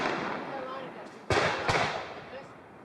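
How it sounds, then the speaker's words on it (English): Real fireworks shells bursting in the sky during a film shoot, two sharp loud booms in close succession with crackling tails, set against an outdoor background hum and distant voices. "we'd set off as many as 9 or 10 shells on a couple of shots"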